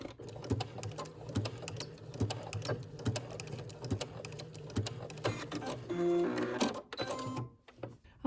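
Sewing machine backstitching a maxi dress seam, rapid rhythmic mechanical clatter in close bursts, with a brief pause and a short reverse run near the end.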